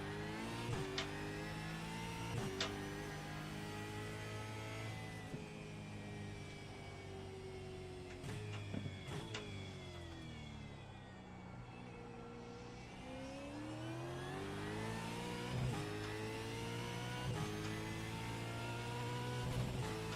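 A racing car engine at practice on the Adelaide street circuit, warming its tyres, revs up and down in long sweeps for about twenty seconds. Brief sharp blips mark the gear changes, and the sound is steady and moderately distant, with no talking.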